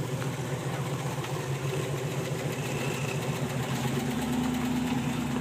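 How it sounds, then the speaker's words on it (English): A large Jeep engine labours steadily while driving up a steep hill near Moab, its low rumble and vibration continuous and close throughout, with no talking. "She's driving Dad's huge, huge Jeep. She's going up that hill."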